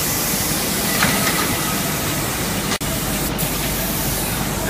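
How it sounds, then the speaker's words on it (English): An industrial spray line's spray heads color faux leather with a steady, loud hissing spray that fills the space continuously, like pressurized nozzles blasting, with a brief cut partway through. "These spray heads come down, spray a color on it"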